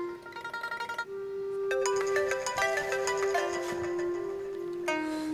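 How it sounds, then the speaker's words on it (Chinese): A mobile phone ringtone plays in a village setting: a quick pulsing start, then a bright, sustained melodic tune that carries on for several seconds, loud and close, with no one talking over it. "赵书记电话，肯定是问铺面的事。"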